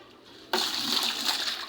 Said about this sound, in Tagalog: sinasalin ko na lang yan dyan sa balde ba